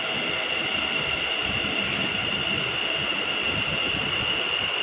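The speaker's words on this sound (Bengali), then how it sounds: "এটা পরের ট্রেন ঢুকে গেছে, পরের ট্রেন কিন্তু ঢুকে গেছে।" Kolkata East-West Metro train pulling into a station: a steady, loud rumble and rising whine with a high tonal hum continuing throughout, no talk heard.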